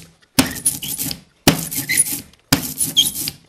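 Ink roller spreading printing ink across a sheet of glass for linocut printing, three separate passes of sticky, crackling rolling, each starting abruptly and fading, close and loud with no talking.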